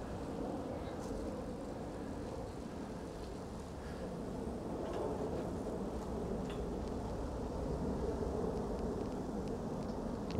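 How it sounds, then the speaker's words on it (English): Airplane passing overhead near Narita Airport, a steady broad roar that swells slightly toward the end, heard continuously from a bicycle on a road in Matsudo, Chiba, with wind rushing across the microphone. "Hear that airplane."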